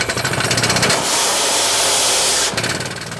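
A drilling rig bores a water well beside a church in a barren Brazilian village, giving a loud, close, continuous rapid hammering that briefly shifts to a steady hiss before the pounding resumes.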